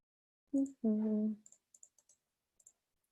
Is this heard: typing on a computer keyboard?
yes